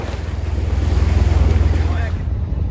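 Sea waves wash around a sailing boat heading from Yarmouth to Weymouth near Durdle Door, with heavy wind buffeting the microphone in a loud, pulsing low roar.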